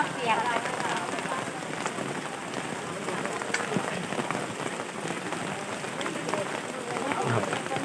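Steady rain falls outdoors at a temple gathering in Thailand, a continuous pattering hiss on surfaces lasting throughout, with people talking over it.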